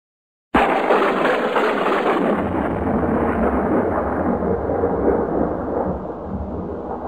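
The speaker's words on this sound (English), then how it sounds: "Thunder is the sound that follows a flash of lightning" A sudden loud crack of thunder after a lightning flash bursts in from silence, then rolls on as a heavy, continuous rumble that slowly fades.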